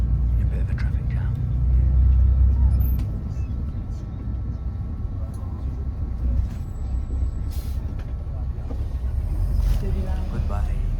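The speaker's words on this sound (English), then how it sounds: "A bit of a traffic jam." Steady low road-traffic rumble from cars, buses and trucks crawling in a traffic jam in China, continuous and fairly close, with faint voices murmuring now and then.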